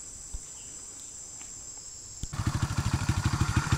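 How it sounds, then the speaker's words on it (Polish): A motorbike in Cambodia starts up after a few seconds, then settles into a steady, rhythmic idle that thumps close by over a constant high insect drone. "motor odpalony, możemy jechać."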